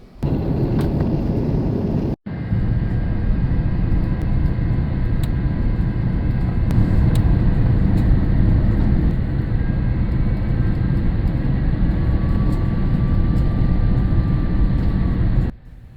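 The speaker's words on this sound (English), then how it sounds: "We touched down in Helsinki on a beautiful day" A Finnair airplane landing in Helsinki, heard from inside the cabin as a loud, steady, broadband engine and airflow roar that holds nearly unbroken for the whole stretch, with one brief dropout near the start.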